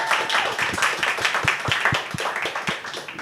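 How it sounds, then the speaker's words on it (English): An audience claps at a business talk event on Indonesia, a lively stretch of hand claps with distinct sharp individual claps cutting through the fuller patter, close and fairly loud. "A round of applause, please."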